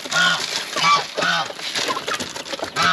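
Farm turkeys gathered at feed, honking and gobbling calls repeating loudly and close over a busy background of birds, with no talk.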